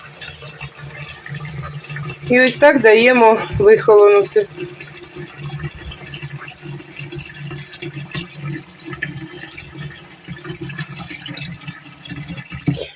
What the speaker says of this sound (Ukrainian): під холодну воду. Під кран. І повністю в мене тече з колодязя.